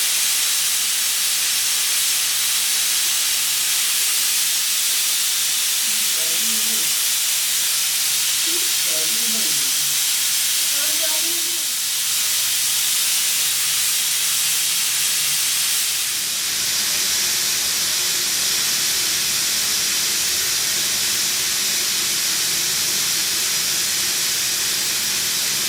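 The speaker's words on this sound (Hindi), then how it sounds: "सीटी को उठा लें और गैस अच्छे तरीके से खारिज कर लें।" A pressure cooker of masoor dal, its whistle lifted off, venting steam in a loud, steady hiss that runs the whole time, with a few faint bubbling sputters partway through.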